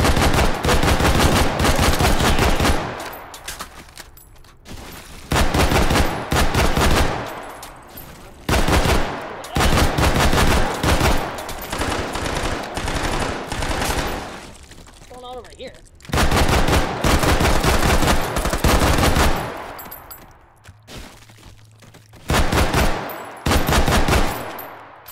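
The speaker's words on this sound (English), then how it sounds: "Or just the battle rifle, the G3 for the win." Loud bursts of G3 battle rifle fire in a video game, rapid automatic volleys alternating with brief pauses over about twenty-five seconds.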